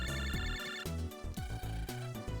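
Phone ringing in the video game Megaman Battle Network 5, a bright repeating electronic ringtone jingle, loud and clear over game music, with no talk.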